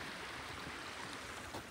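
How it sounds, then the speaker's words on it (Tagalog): Mountain river running fast and strong with snowmelt beside snow-covered onion fields, a faint, steady rushing wash of water with no voices. "Kaya malakas po yung agos ng ilog po ngayon."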